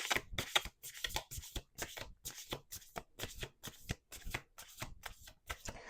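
Cards are shuffled over and over in a steady riffling rhythm, a quick series of crisp flapping bursts close by, with no talking.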